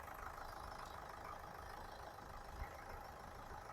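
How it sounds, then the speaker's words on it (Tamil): A low, steady diesel car engine rumble idling quietly with a slight knocking texture, continuous and unchanging throughout. "வண்டி இன்ஜின் ஸ்டார்ட் பண்ணி காட்டுறேன் பாருங்க"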